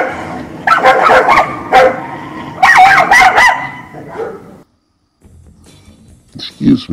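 A dog that has gotten loose from its yard barks in two loud, close bursts of several sharp barks each, followed by a pause and then quieter rustling and a short whine-like sound.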